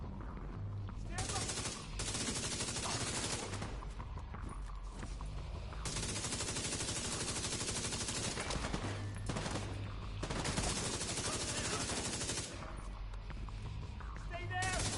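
Gunfire in The Division 2 rattles in long sustained bursts of rapid automatic fire, with brief pauses between bursts and combat shouts over the top.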